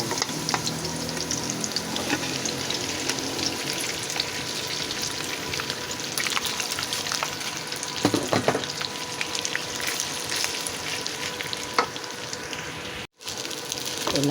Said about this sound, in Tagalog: Ito na po yung fried rice natin mga kaibigan.